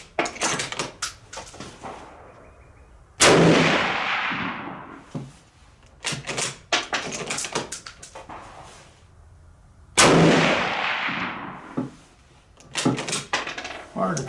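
Rifle shots from a K98k fired at steel targets on an outdoor range, two loud sharp reports each trailing into a long rolling echo, separated by clusters of faint clacks and handling noises.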